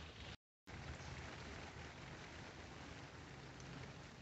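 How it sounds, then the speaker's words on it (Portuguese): Rain begins falling outdoors, a steady dense patter that is faint overall, interrupted briefly by a moment of silence near the start. "agora, ó, começou a chuva. Chover mesmo na hora"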